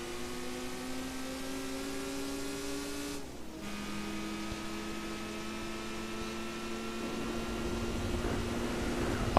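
Engine of a car accelerating in Gran Turismo 4 during a license test, a steady, rising whine held throughout, dipping briefly as the gear shifts and then climbing again under a continuous hum.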